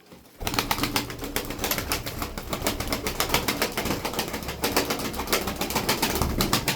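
Milk-white tumbler pigeons fill the air with dense, continuous flapping and fluttering wings, close and steady from start to finish, with occasional soft coos beneath.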